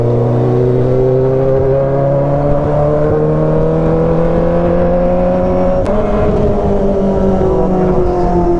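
Loud aftermarket motorcycle exhausts roar continuously at close range, with engine pitch rising and falling through repeated revs, several machines overlapping with a brief sharp pop midway.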